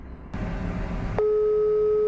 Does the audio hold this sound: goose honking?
no